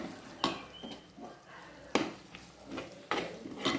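Chilli, coriander and turmeric powder frying in a pan for a fish roast, with a low sizzle under several sharp scrapes and clinks from stirring the pan at irregular intervals.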